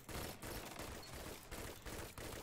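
Rapid bursts of pulse rifle fire from the Claws of the Wolf in the Destiny 2 video game, loud repeated volleys in quick succession with short gaps between them.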